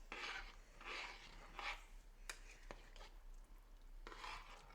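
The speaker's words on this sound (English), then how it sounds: "Let's stir this up again." A spoon scrapes and stirs thick chili with ground beef in a pot, several quiet rubbing strokes with brief clinks, close and faint, with no talking.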